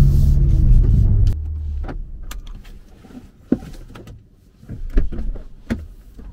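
Deep engine rumble of a stage 2 tuned BMW M4 Competition (G82) that cuts off abruptly, followed by quieter idle and scattered clicks and pops from the exhaust.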